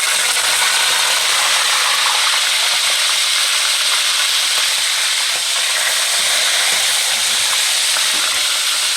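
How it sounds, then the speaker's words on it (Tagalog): Fish lies frying in hot oil for sweet and sour fish, making a dense, steady hiss that stays loud and close throughout, with faint rattling underneath and no voices. "mainit na yung mantika natin. Lagyan na natin yung fish."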